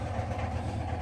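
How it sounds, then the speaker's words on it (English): A washing machine gives a steady low mechanical rumble with a droning hum, continuous and even, churning nearby; no talking. "I'm sorry about the noise from the washing machine"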